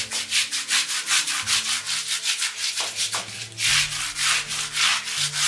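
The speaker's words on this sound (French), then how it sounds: "Et je vais frotter dans un premier temps avec ma brosse." A brush scrubs moldy shower grout treated with citric acid in rapid, rhythmic back-and-forth strokes, a close, loud rasping with regular pulses.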